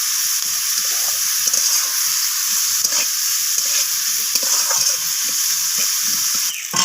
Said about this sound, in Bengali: পেঁয়াজগুলোকেও আমি উচ্ছের সাথে ভেজে নিচ্ছি একটু ব্রাউন রং ধরা পর্যন্ত